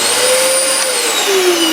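Dyson DC14 All Floors upright vacuum cleaner, model C84918, with a loose filter cover held by one screw and a broken latch, running continuously with a loud, steady whine and a slowly shifting pitch, with no talk over it.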